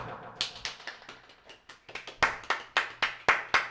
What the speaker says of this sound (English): I don't know why y'all clapping.